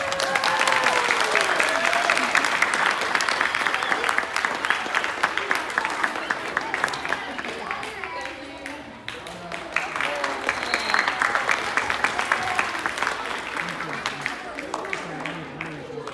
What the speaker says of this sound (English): Let's clap for Jack.